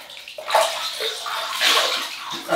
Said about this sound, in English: just wet the face